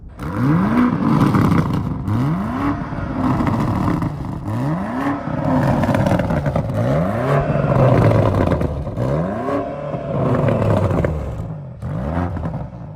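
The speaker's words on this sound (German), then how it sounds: "sondern hört man wirklich nur den echten Auspuffklang" A BMW XM SUV's exhaust booms and rises in repeated revving surges, with deep rumbling and rattling between the pulls.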